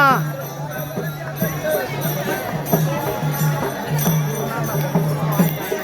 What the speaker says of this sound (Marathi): अफाट वारकरी अफाट लोकसंख्या अफाट वारकरी गर्दी गर्दी अफाट गर्दी